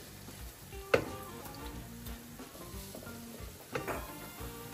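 Garlic and tomato fry in a pan for ilish bhapa, a soft steady sizzle with a couple of sharp utensil clinks against the pan.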